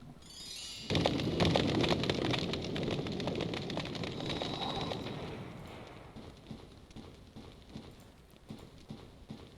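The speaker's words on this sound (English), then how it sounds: "Yeah, back to raining." Rain in the 1999 Windows game Dark Secrets of Africa, a dense pattering downpour that starts abruptly with rumbling underneath, then thins gradually into scattered drops.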